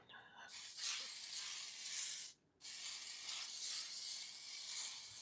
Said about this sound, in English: So this spray, you notice it's aerosol, very light.